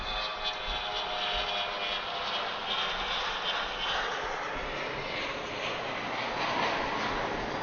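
An airliner climbing steeply after takeoff from Atlanta airport gives a loud, sustained jet engine roar that stays steady and continuous throughout, with no voices over it.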